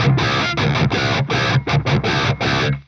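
Heavily distorted electric guitar through an EVH 5150 III amplifier's blue channel plays tight palm-muted chugs in a choppy, syncopated rhythm, loud and close, then stops abruptly.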